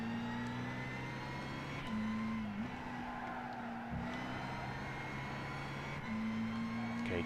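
A Lotus Elise engine drones steadily on the Tsukuba race track, its pitch holding and stepping as the throttle is fed on and off, heard from on board at moderate loudness.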